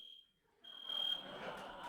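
A fire alarm sounds at a university lecture event during a protest, a steady high electronic tone that cuts out briefly and then resumes under rising crowd noise.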